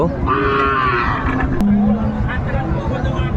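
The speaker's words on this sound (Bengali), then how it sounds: "এই যে গরুগুলো কালেকশন করছে বেলাল ভাই" A cow lows once amid a noisy crowd at a Friesian cattle farm in Madaripur, with people talking throughout.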